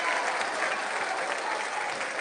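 Basketball crowd at a high school district championship game in a gym, applauding steadily and loudly as a dense wash of clapping throughout.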